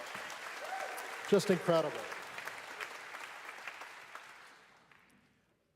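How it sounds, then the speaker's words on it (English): An audience applauds after a piccolo solo at a U.S. Navy jazz band concert, a steady wash of clapping that fades to silence, with someone briefly speaking over it. "How about a round of applause for Amanda Ballantyne on that amazing piccolo solo?"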